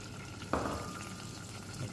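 Curry leaves dropped into hot ghee in a home kitchen give a sudden sizzle that fades to a quiet, steady crackle, close and faint, with no talking.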